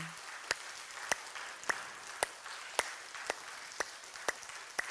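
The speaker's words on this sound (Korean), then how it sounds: "우리 하나님께 영광의 박수 한번 칠까?" During a church worship service, the congregation claps in a slow, even rhythm of distinct single beats spaced about half a second apart, faint against a quiet room.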